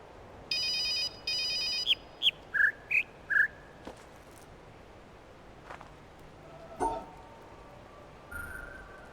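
Telephone in the puzzle game The Witness ringing in two shrill electronic bursts, followed by a handful of bright chirping tones over quiet outdoor ambience, with a few faint clicks later.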